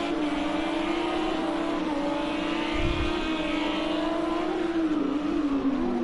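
A Lamborghini Super Trofeo race car engine drones at high revs on a street circuit, a strong steady tone that dips and rises slightly as the car works through corners and over curbs, with no talk.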